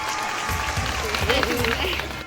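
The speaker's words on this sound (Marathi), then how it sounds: "सर्वांनी जोरात टाळ्या वाजवा" Audience applause at a dance competition during a Jayanti festival, a dense, sustained clapping from the crowd with a voice speaking over it and some low rumble underneath.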